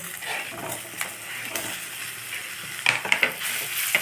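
Ridge gourd with curry leaves and turmeric sautéing in a pan for a chickpea kootu, giving a continuous sizzle broken by spoon stirs and several sharp metallic taps on the pan toward the end, no voices.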